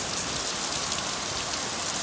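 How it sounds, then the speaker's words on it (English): Heavy rain pours steadily onto surfaces on a stormy morning, a dense, continuous hiss close by with no pauses or voices over it. "And it's raining again."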